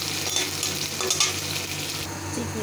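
Green chilies, onion and cumin frying in hot oil in a wok while being stirred, a steady close sizzle with scraping stir sounds throughout.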